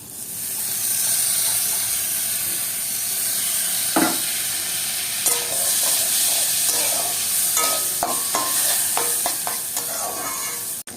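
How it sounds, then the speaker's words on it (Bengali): Rice sizzles and crackles in hot oil in a kadai as it puffs into puffed rice, with a steady hiss, scattered sharp pops growing busier toward the end, plus occasional stirring scrapes. "এবার দেখো চালটা ফুটছে, চাল থেকে মুড়ি তৈরি হয়ে যাচ্ছে।"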